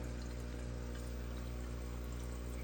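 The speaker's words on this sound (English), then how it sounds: "Look at all the air bubbles." Air bubbles stream steadily through a shrimp aquarium tank, a faint, constant bubbling and gurgling hum with no pauses.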